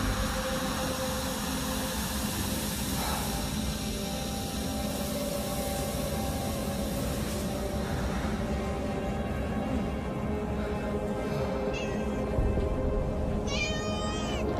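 A cat meowing in a Dead by Daylight Alien trailer, a few high drawn-out mewls near the end rising over a loud, constant rushing hiss and engine-like drone.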